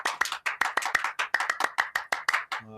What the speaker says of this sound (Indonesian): Tepuk pramuka masih ingin nggak? Ayo tepuk pramuka.